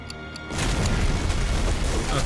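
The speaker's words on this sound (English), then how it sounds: "Okay, the explosion was tiny." A single deep boom hits after a brief lead-in, then a rumbling blast tail lingers for a couple of seconds, moderately loud.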